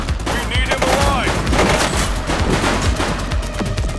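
Dense, loud gunfire in the police video game The Precinct, with rapid overlapping shots and bursts rattling continuously close by, voices faintly mixed in underneath.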